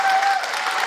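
Audience applause for a singer at an outdoor concert in Târgu Jiu, a dense burst of crowd clapping lasting under a second.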